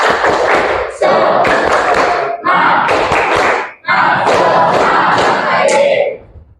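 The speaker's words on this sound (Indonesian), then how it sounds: "Yuk kita tepuk semangat dulu. Tepuk semangat." A school class performs a rhythmic spirit clap, loud bursts of group clapping and chanting voices in several sections separated by short pauses, ending abruptly.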